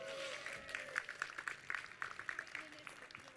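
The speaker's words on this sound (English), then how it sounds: "Round of applause, everyone." Scattered clapping from a seated group gathered for lunch at a live outdoor event, light and fairly distant, with a few sharper claps rising briefly before tapering off.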